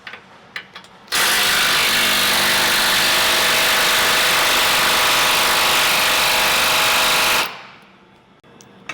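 A power tool loosens the factory bumper bolts on a 2023 Ford F-250 pickup during a lift kit install, one loud sustained whirring run of about six seconds, starting abruptly and winding down, with quiet shop clatter around it.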